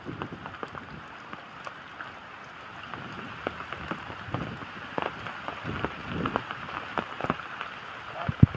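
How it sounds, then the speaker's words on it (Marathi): Steady rain falls on an open farm field during planting, a soft continuous patter with scattered nearby drop taps and light wind, no voices heard. "पाऊस पण खूप पडतोय."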